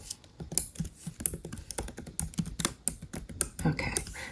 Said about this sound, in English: I'm just going to type in The Good Life.